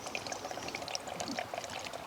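Alcohol is poured into a sample collection bottle for submerged light-trap insect samples, a quiet close trickling and gurgling stream running without a break.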